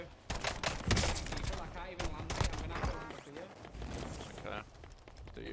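Gunfire in the video game Warzone (Black Ops Cold War) comes as rapid bursts of shots mixed with footsteps, dense and loud in the game mix.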